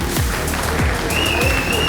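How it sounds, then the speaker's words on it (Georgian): Audience applause for grapplers at a grappling event, a steady wash of clapping filling the short moment, loud and close with crowd noise underneath. "გთხოვთ აპლოდისმენტები"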